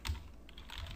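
A brief burst of computer keyboard typing while entering HTML code, with a few soft, close key clicks over a low background hum and no voice.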